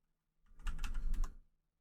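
A brief, soft burst of typing on a computer keyboard, a handful of quick clicking keystrokes lasting under a second with no talk over it.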